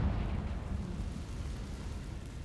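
A Confringo fire spell from Hogwarts Legacy erupts in a sustained low, rumbling blast that dies off gradually over a couple of seconds, with no one speaking over it.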